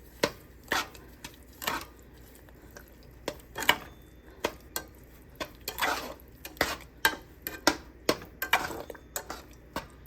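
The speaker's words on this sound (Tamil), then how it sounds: "இந்த சூட்டோட இது எல்லாத்தையும் கிளறி விடுவோம்" Thick date cake mixture stirred in a pan with butter, a spoon scraping and knocking against the sides in irregular repeated strokes, close and fairly quiet with no talk.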